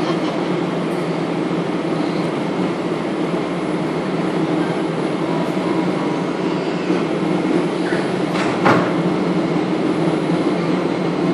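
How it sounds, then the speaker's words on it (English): MARTA Blue Line subway train running on the rails, a steady loud rumble and roar of wheels with a brief metallic squeal near the end, heard from inside the car, no talking. "Sound like we got a whole new sound on the rails, huh?"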